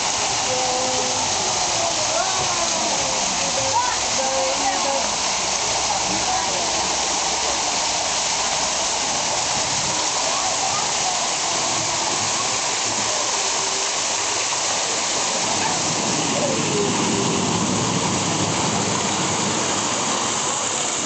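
A loud, steady rush of falling water from a water park waterfall pours continuously, a broad roaring hiss, with faint voices drifting underneath.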